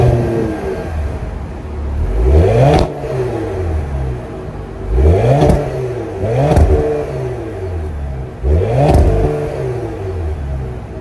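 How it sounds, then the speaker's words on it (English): A 2025 Cadillac CT5's 3.0-liter twin-turbo V6 is revved repeatedly, roughly four rising and falling pulls over a steady idle, close and loud, with no talking. "that was the sound of the 3-liter twin-turbo V6 sold by Cadillac for the 2025"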